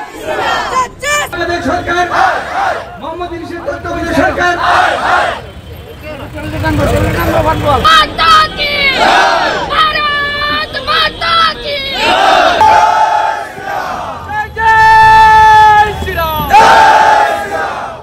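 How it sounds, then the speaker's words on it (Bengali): A large crowd of Hindu monks chants and shouts slogans in unison at a protest rally in Agartala, Tripura. The voices rise and fall in loud repeated calls, with traffic-like rumble beneath. "ত্রিপুরার আগরতলা, সেখানে বিক্ষোভ দেখালেন সন্ন্যাসীরা"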